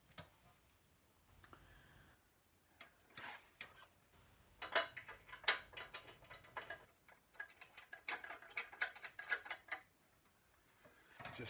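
Metal parts click and tick as the rear brake torque arm of a BSA A70L motorcycle is fastened to the swinging arm, with sparse close taps and clinks that cluster in quick bursts, no voices.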